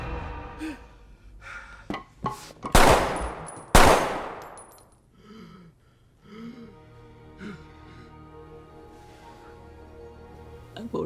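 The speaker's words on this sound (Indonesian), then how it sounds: "kematian Gaspar yang ditembak mati oleh si Ovi yang turun tepat waktu" Two loud, sharp gunshots ring out close together in a tense film fight scene, with faint background noise and a gasp-like breath nearby.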